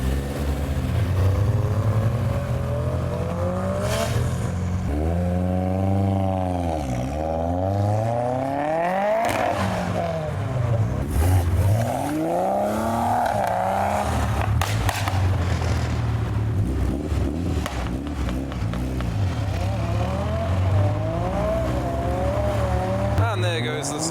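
A white Toyota Chaser revs hard and squeals its tires at a car meet, with a loud, continuous engine roar that climbs and falls in repeated sweeps over steady crowd noise and some talk.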